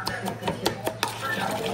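Okra salad with tomato is tossed in a bowl, producing a quick run of close, light knocks and scrapes of a utensil against the dish, soft and uneven in rhythm.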